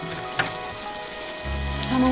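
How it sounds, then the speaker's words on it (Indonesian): Heavy rain in a dramatic film scene, a steady broadband wash with a brief tap early on and a low tone swelling in near the end. "Di tengah hujan deras"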